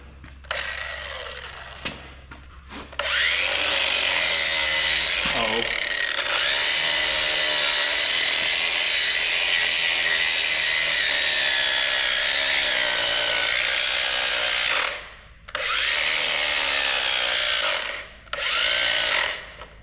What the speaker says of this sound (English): it's the first time with power tools and he's just doing great